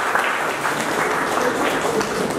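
Audience applause after a session at a college project expo, a steady dense wash of clapping throughout that sounds like a crowd in a hall, with no one speaking over it.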